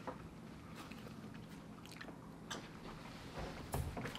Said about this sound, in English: we're gonna fry up and eat some bald-faced hornet larva